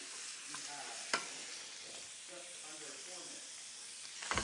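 Shrimp sizzle and hiss in a hot pan over a gas flame, a soft continuous fry with a sharp clink near the start and another at the end as they are turned.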